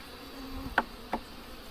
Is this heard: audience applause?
no